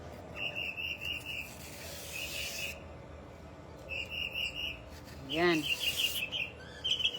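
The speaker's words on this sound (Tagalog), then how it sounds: "Uy, hala, may ibon. Ang ibon kumakanta." A bird sings in an outdoor setting, giving repeated high chirping phrases above a steady hiss of background noise, and a voice briefly speaks partway through.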